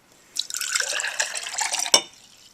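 Water poured from a measuring cup into a clear cup, a short splashing stream lasting about a second and a half and ending in a sharp knock, close and alone.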